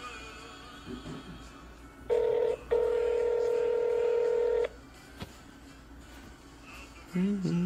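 Telephone keypad tones sound as a call is placed, with a couple of long steady beeps, a short gap and another tone near the end, heard over faint background noise.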